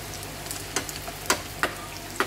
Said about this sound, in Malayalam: ഉള്ളി മൂത്തിട്ടുണ്ട്. കുറച്ച് വേപ്പിലയോടെ ഇട്ട് കൊടുക്കാം.